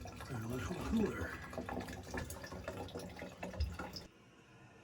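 Tap water running into a small cooler, a continuous splashing pour with a voice talking over it, cutting off abruptly before the end.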